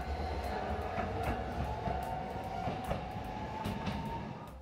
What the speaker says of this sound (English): So that was the Sakura Tram, the last running streetcar in Tokyo.